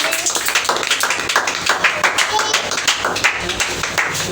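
A church congregation claps in a steady rhythm to acclaim the Lord, with close, crisp hand claps and voices mixed in underneath.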